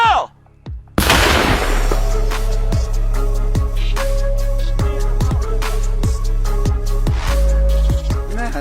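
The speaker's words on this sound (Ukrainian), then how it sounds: "Постріл!" A single sharp gunshot cracks loudly, followed by a long ringing echo and a rumbling tail that decays over several seconds.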